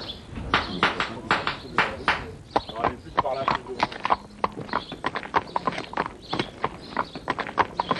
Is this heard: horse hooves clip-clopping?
yes